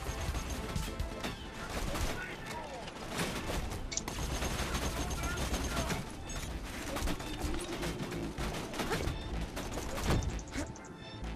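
Dense video-game gunfire from Borderlands on Pandora, a continuous rattle of shots and mechanical clatter sustained throughout at steady loudness, with someone speaking over it.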